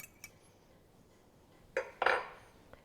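Spoon stirring cornstarch into water in a small glass or bowl, heard as quiet, sparse clinks with a couple of louder close scrapes and taps near the end, no voices.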